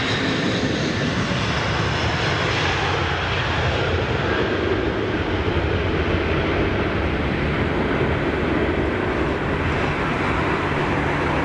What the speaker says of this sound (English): Let's just catch this 330 as she goes out.